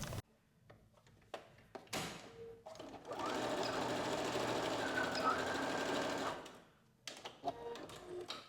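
Sewing machine stitching elastic onto dress fabric, a steady rapid mechanical whir lasting about three seconds, framed by quieter handling clicks and fabric rustles before and after.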